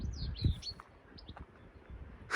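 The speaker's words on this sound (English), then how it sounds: "Nice whitethroat." A whitethroat sings on Ventnor East cliffs on the south coast of England, a quick scratchy warble of high chirps at moderate distance over low wind rumble, with no talk.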